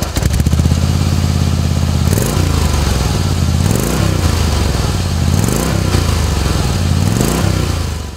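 A Harley-Davidson 1690 Softail Breakout cranks on the starter, then fires and settles into a loud, close, steady idle, with a deep, regular pulsing beat of uneven thumps repeating about every two seconds and no voices.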